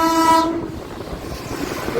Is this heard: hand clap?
no